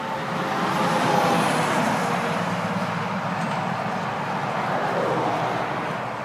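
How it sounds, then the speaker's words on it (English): Steady traffic on the main highway near the Stone Bridge at Manassas Battlefield, cars passing in a continuous, fairly loud roadway rumble for several seconds with no voices. "So, you see the main highway there, cars going by."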